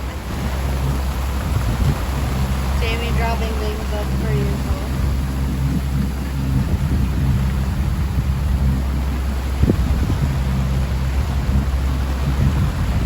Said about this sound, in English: That's a little rain squall.